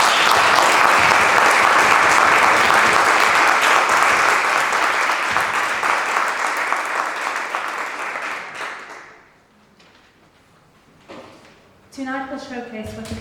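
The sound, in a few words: round of applause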